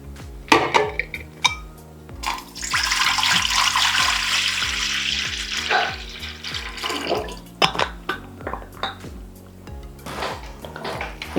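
Water is poured into an idli steamer pot while steaming kudumulu. The stream rushes for a few seconds in the middle, framed by clinks and knocks of metal pot and plates before and after. No one speaks.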